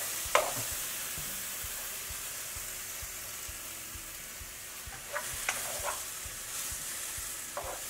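Quartered corn tortilla pieces frying in a pan for chicken tortilla soup, a soft steady sizzle throughout with a few faint clinks and stirring scrapes near the start and toward the end.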